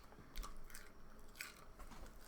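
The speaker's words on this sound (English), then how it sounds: "I'm chewing popcorn." Popcorn being chewed close to the microphone, with repeated crunchy bites and wet mastication noises in an irregular rhythm over a low background hum.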